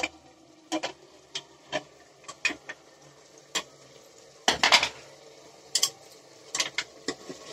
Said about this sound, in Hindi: अब कुकर को खोलकर देखते हैं किस तरह से बना हुआ है